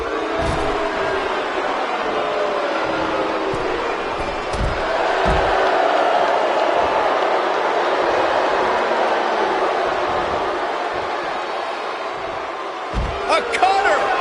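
A capacity arena crowd in the WWE 2K19 wrestling game roars steadily throughout, swelling in the middle, with sharp thuds of ring impacts and a commentator talking over it.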